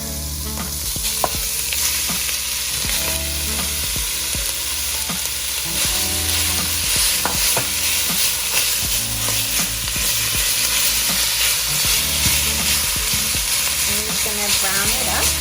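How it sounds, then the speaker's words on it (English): Ground pork sizzles steadily in a hot pan for Dan Dan noodles, with frequent scraping stirs of a utensil punctuating the constant frying hiss, close and continuous throughout. "Then I'm going to add in my pork."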